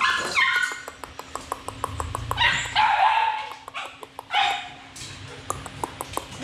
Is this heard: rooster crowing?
no